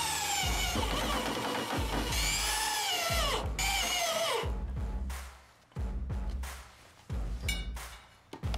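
A power drill drives screws into a new rocker sheet-metal panel on a Ford Falcon, whirring up in pitch on several short runs with thuds, then a quieter stretch and a few more bursts.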